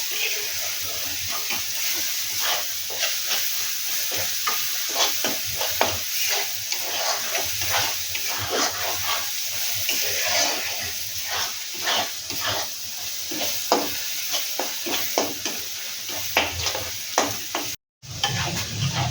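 Garlic sautéing in a pan for a soybean curry, with a steady sizzle and repeated scraping and stirring strokes throughout, the spatula clicks close and fairly loud.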